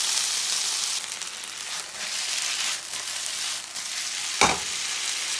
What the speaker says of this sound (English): Just keeping it stir fried so that all the sides are coated in brown.